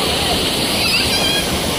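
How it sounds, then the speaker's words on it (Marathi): Fast-flowing water rushes down a mossy waterfall stream, a loud, steady roar of churning, splashing water with no break. "पाण्याचा आवाज येत असेल तुम्हाला, केवढा पाणी फास्ट आहे ते."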